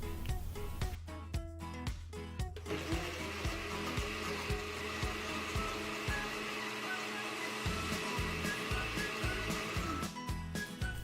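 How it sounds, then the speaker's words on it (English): A blender crushes ice into a chocolate banana smoothie with a loud, steady motor whir and rhythmic clunks of ice against the jar throughout, with no talking. "Then I throw some ice in to give it the chill factor, and I blend again."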